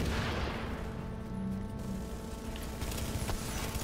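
Gunfire in Tom Clancy's The Division skirmish play comes as a dense, continuous rattle of shots, fairly faint under steady background noise, with no speech.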